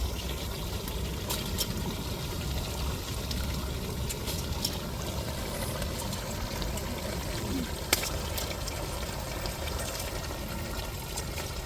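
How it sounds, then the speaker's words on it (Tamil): Soaked basmati rice and water pour into a cooking pot, making a steady, continuous rush and trickle that holds evenly throughout, with a few faint clinks. "நாங்கள் பாஸ்மதி அரிசியை ஊற வச்சுருந்தோம் இப்போ சேர்த்துக்கிருவோம்"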